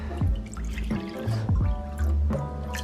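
Water pours and drips from a Brita pitcher into a container, close up, in uneven glugging bursts and splashes with pauses between pours, and no speech.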